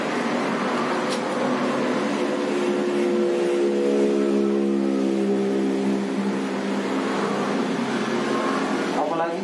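Electric hair clippers hum steadily through a boy's buzz cut, a continuous motor drone with people chatting over it.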